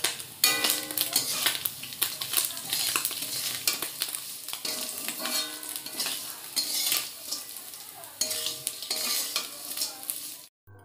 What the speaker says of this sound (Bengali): মাছটা যখন ভেজে নাড়ছিলাম তখনই তোমরা বুঝতে পারলে মাছটা কীরকম কড়মড়ে হয়েছে